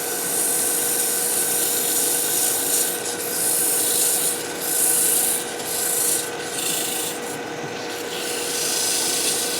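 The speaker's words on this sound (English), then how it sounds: "anybody who tells you that they don't sand is probably lying to you. Everybody sands, you've got to." Sandpaper rubbing over a carved wooden gnome or tree, a continuous close rasping scrape with gentle surges in pressure and no talk.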